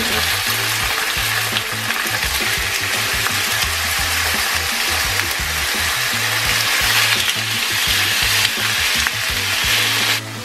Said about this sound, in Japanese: 弱火の中火でゆっくり焼いていってひっくり返してって感じなんで